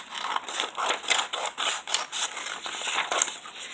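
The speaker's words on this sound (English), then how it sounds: "Grab your scissors and follow this line right here to cut." Scissors snip through folded paper in a quick run of short crisp cuts, close and steady, with no voices.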